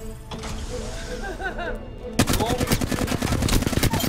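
Rapid gunfire in the battle royale video game Apex Legends, first sparse shots, then a dense burst of automatic fire with mechanical clicks that grows louder toward the end.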